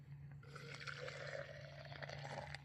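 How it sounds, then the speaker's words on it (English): Boiled water pouring steadily into a Stanley French press over coffee grounds at a Christmas campfire camp, a soft continuous splashing pour over a low steady hum. "Just add your water."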